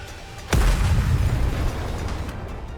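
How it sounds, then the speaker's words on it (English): Missiles firing and exploding in the NIKKE video game, one sudden heavy boom after a brief quiet moment, then a dense rumbling roar that slowly fades. "The missiles have no homing ability. It's just firing wildly!"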